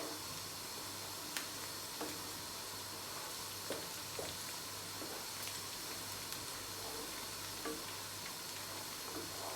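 Four large chopped onions frying in a pan for a spicy Bangladeshi Lottia fish curry, a steady close sizzle with occasional soft clicks of stirring and no talk.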